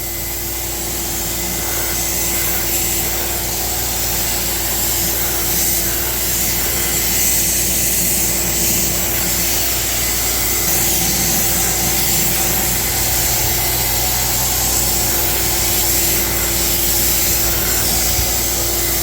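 A DYC sprayer lays a thick coat of Plasti Dip onto car wheels with a continuous, loud airy hiss over a steady motor drone, unbroken for the whole stretch.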